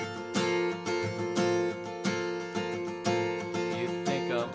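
Acoustic guitar strums ring out in a steady rhythm, bright harmonic chords repeating with strong accents, played close and alone with no voices.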